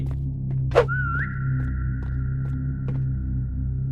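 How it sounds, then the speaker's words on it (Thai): A single sustained whistled tone glides up and then holds steady for about three seconds over a low droning hum, with a sharp burst just before it, while someone plays a Roblox SCP horror game. "ผิวปากดีแล้วกัน"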